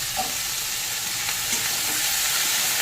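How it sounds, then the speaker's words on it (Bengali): Vegetables and bottle gourd greens sizzle steadily in a hot pan, with light stirring scrapes over a continuous close frying hiss. "এবার সবজিগুলোকে একটু ভেজে নেব।"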